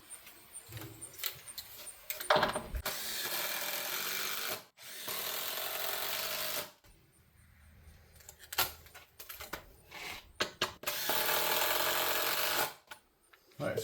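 A power drill drives a screw into a wooden mailbox post in several long whirring bursts with short pauses and handling clatter between them, close and fairly loud.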